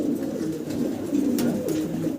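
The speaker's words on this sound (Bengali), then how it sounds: "আমরা এক পেয়ার জ্যাকোবিন কবুতর দেখতে পারতাছি" Low, throaty Jacobin pigeon cooing rolls on steadily and close, several birds overlapping in soft repeated calls.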